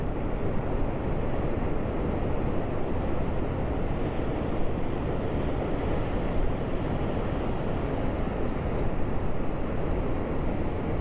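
Continuous roar of Atlantic Ocean surf at Puerto de la Cruz, Tenerife, with fairly big waves, steady and broad, with no distinct breaks between waves and a windy, rushing texture throughout.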